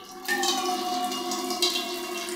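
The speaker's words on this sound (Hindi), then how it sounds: "देखिए पानी आना शुरू हो गया" Water begins gushing from a tap feeding a small 1-litre instant water heater, a steady close hiss and splash that starts abruptly and runs on without talk.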